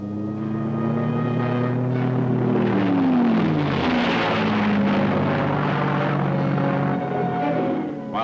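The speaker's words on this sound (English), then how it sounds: "The fixed-wing spotter planes, nicknamed bird dogs, had the job of guiding aircraft into strikes at enemy positions." A fixed-wing spotter plane flies steadily overhead, its loud, continuous engine drone sweeping down in pitch midway as it passes, with no voices.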